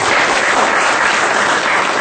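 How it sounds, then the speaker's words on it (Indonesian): Audience at a Buddhist dharma talk applauds a question, a brief dense burst of clapping heard loud and close. "tepuk tangan untuk pertanyaan ini"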